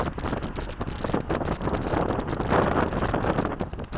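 Strong outdoor wind buffets the microphone in a steady, rough roar for the whole stretch, with gusts swelling and easing and no clear talk over it.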